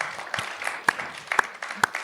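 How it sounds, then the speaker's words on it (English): Scattered audience applause: a light patter of claps with a few sharper, louder hand claps standing out, thin and sparse rather than a full ovation. "Give me Ma a round of applause for having me."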